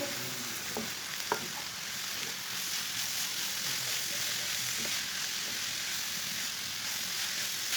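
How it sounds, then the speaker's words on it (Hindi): Boiled chicken and finely chopped cabbage are mixed together for village-style chicken kebabs, with a steady sizzling frying hiss throughout and a few faint scrapes of stirring, close and even, with no talking. "इसे अच्छी तरह मिक्स कर लेंगे।"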